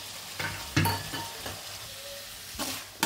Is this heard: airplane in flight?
no